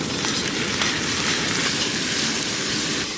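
Lightly fried onion with ginger-garlic paste and chopped tomato sizzles in a pan for chicken curry, a loud, steady, close-up hiss of frying with no pauses and no voices.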